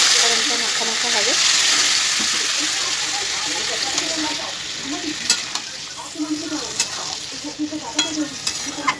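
Mixed vegetables for a Bengali fish-head dish frying in a pan as a little water goes in, a hissing gush fading into bubbling sizzle with spatula clinks, close, with a voice faintly present.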